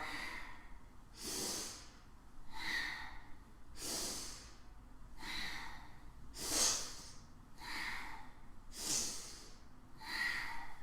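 Fast, rhythmic breathing during a kundalini practice: a sequence of forceful inhales and exhales through the nose, about one breath every second or so, close and breathy with no talk.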